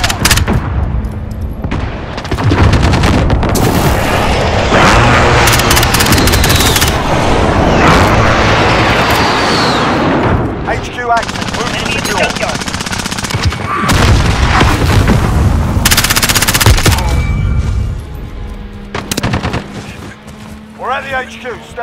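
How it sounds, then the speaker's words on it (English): Loud explosions and heavy gunfire from a Call of Duty Modern Warfare multiplayer match, with dense booming bursts filling most of the stretch and a few sharper blasts near the end, under intermittent voice callouts. "Be advised, friendly precision airstrike inbound."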